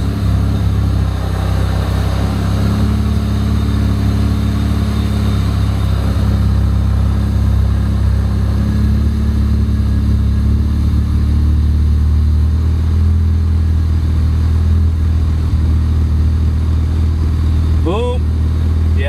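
A car engine idles with a loud, steady low drone, its pitch shifting as the revs rise and settle during a free-rev, with a brief high chirp near the end and people talking faintly.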